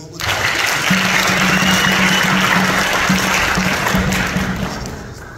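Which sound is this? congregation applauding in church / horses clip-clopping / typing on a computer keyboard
congregation applauding in church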